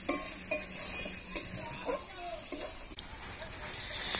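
Ginger and dried red chili paste frying in a pan for a chicken skin dish, with a soft steady sizzle and occasional stirring scrapes, a brighter hiss building toward the end.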